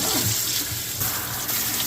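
Room-temperature tap water runs steadily while rinsing out an FX6 canister filter full of sand and gunk, a close, continuous splashing gush with no one talking.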